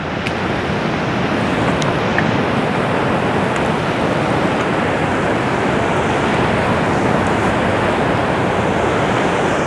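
Ocean waves at Tibu Tidal Pool on Dalugan Beach produce a loud, steady broadband wash of surf, dense and continuous, with some wind buffeting on the microphone and no talk.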